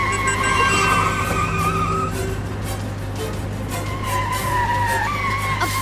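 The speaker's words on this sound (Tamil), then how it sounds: "ஐயோ, பார்த்து, வண்டி வருது" A car skids toward the listener in a Tamil TV drama scene, its tires letting out a loud, sustained screech that wavers in pitch for several seconds over a steady low engine rumble, with no voices.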